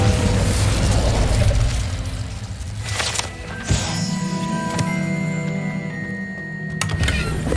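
An Incendio fire spell is cast in the Hogwarts Legacy video game, with a muffled boom and whooshing burst midway, then lingering magical crackle and shimmering tones over a steady ambient bed.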